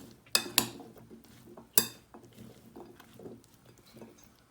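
Sliced red radish tossed with red bell peppers in a bowl for a Mexican salad, giving a few sharp clinks of spoon on dish followed by softer, steady stirring and rustling, close and alone.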